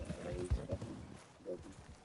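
Horse hooves clip-clopping in the Red Dead Redemption 2 video game, a few uneven, moderately close thuds under a faint layer of other game sound.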